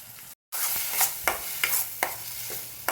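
A paste of roasted onion and coconut sizzles as it is sautéed in a pan, with a steady hiss punctuated by regular scraping strokes of a spatula after a brief cut near the start.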